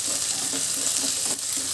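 Peas sizzle and crackle steadily in a hot pan with curry leaves, a continuous close frying hiss with faint stirring scrapes.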